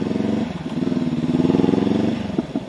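Engine of a 2019 Honda CB500X motorcycle while riding, a steady close rumble with a rhythmic throbbing pulse that rises slightly and then eases off.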